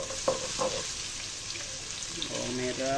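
Pounded shallots, ginger and garlic frying in hot oil for crab sambal, with a steady close sizzle and stirring clatter, a brief voice heard over it.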